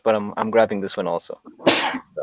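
A person sneezes once, sharp and close, right after a short stretch of casual talk, followed by a brief pause and a few more words.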